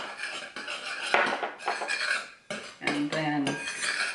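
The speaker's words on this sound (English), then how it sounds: "So I'm going to give that a just a stir just to mix it all together." A spoon stirs a chicken stew mixture in a pot, giving several close scraping and clinking strokes against the pot with short pauses between them.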